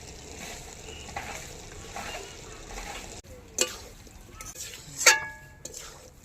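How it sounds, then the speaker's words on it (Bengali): Chicken, fried potatoes and boiled banana flower stirred together in a pan make a quiet sizzle with occasional scraping strokes and a couple of sharp metallic clinks from the spatula. "ভালোভাবে কষানো চিকেনের সাথে আলু আর সিদ্ধ করা কলার মোচা ভালোভাবে মিশিয়ে নিয়েছি"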